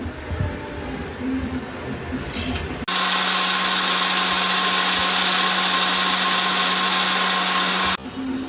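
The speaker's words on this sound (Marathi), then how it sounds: "ते सगळे एकत्र करून मिक्सरच्या भांड्यात टाकून घ्यायचे" An electric mixer grinder blends garlic cloves with fresh coriander, switching on abruptly into a loud, steady high whine for about five seconds before cutting off, with quieter handling noise before it starts.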